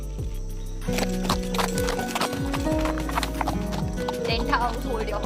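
Horse hooves clip-clop in a steady rhythm during a ride, with a horse neighing and whinnying over a continuous musical background, close and prominent throughout.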